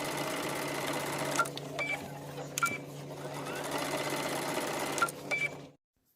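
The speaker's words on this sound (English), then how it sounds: "Now let's take it to the machine and stitch it." A sewing machine stitching fabric for a trench coat, a steady close whirring hum with a few brief clicks and pauses, running alone before stopping abruptly near the end.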